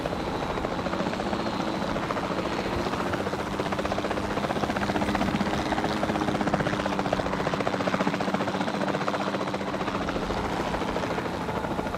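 Helicopter in the dinosaur park game Jurassic World Evolution 2, a continuous loud rotor thrum and engine drone held steady throughout.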